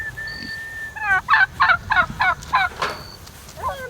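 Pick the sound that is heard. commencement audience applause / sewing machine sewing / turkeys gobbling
turkeys gobbling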